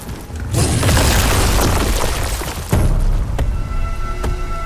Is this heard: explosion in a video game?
yes